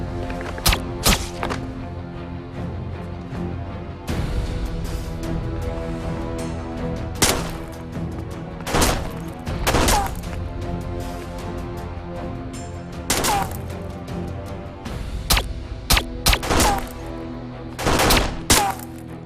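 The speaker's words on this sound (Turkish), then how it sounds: "Silah sesi. Birileri ateş ediyor." Repeated sharp gunshots ring out in irregular bursts, some in quick clusters, loud against a steady low background hum, in a Turkish TV drama scene.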